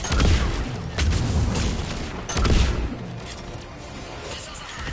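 Missile explosions in Mass Effect 3, heavy booming blasts and rumbling impacts in quick succession, loud and dense with debris-like crackle, one big burst near the start and another midway before the roar fades.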